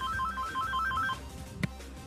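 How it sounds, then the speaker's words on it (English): A house phone rings with a repeating electronic ringtone, a quiet pattern of short beeping pulses heard indoors at a moderate distance, followed by a brief click. "The house phone."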